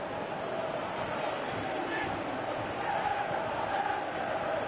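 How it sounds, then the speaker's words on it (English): A football video game crowd, from Winning Eleven 2018 on PS4 in a Master League match featuring Middlesbrough, keeps up a steady, dense roar of chanting and murmuring fans throughout, with a slight swell near the end. "you can feel and hear how the crowd are reacting to all of this."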